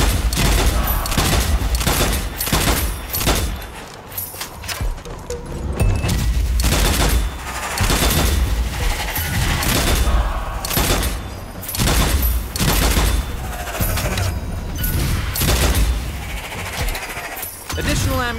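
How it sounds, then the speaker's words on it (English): Dense, loud gunfire from the video game Strange Brigade, with rapid bursts of shots and blasts packed close together through the whole stretch over a busy game soundtrack. "Oh, I say, what wonderful shooting!"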